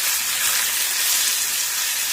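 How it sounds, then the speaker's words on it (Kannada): Onions frying in a pan after garlic for a Tamil Nadu style salmon fish curry, a steady close sizzle and hiss with no pauses. "ಈಗ ಈ ಈರುಳ್ಳಿನ ಹಾಕೋಣ. ಅದನ್ನು ಹಾಕಿ ಚೆನ್ನಾಗಿ ಫ್ರೈ ಮಾಡೋಣ."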